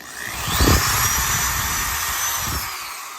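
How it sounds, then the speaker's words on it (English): A power drill bores all the way through a wooden part of a dresser during base assembly repair, a loud continuous whine starting with a low burst and holding steady for about three seconds, with no talk. "And I'll go ahead and drill it the rest of the way through."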